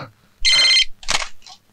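A phone rings with a short electronic trill that repeats twice, followed by a fainter partial ring, loud and close.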